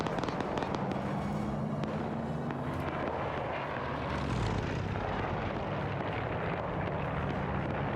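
A WW2 aircraft drones through a bombing run in a video game, a steady broadband engine roar with crackling bursts and booms layered over it, dense and continuous for the whole stretch.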